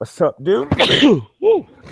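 A single sharp human sneeze bursts out in the middle of casual speech, with people talking just before and after it.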